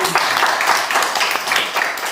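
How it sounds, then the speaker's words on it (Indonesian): Classroom applause for a student group after a presentation, a steady patter of many hands clapping at fairly close range, dense and even throughout with light voices mixed in. "tepuk tangan untuk kelompok 3"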